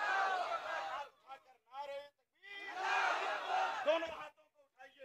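A crowd at a religious conference in Samastipur shouts a Takbir slogan response in two loud, sustained collective bursts, with brief gaps where single voices call out in between.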